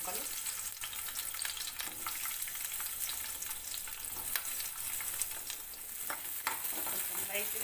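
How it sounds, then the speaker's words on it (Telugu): Capsicum pieces fry lightly in a spoonful of hot oil, a steady close sizzle with occasional soft clicks of stirring. No one talks. "కొంచెం లైట్గా ఫ్రై చేసుకుందాం."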